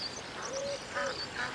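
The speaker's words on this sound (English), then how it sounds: "Male mallards." Male mallard ducks quacking outdoors, a few soft nasal calls within a second and a half, moderately distant over steady background noise.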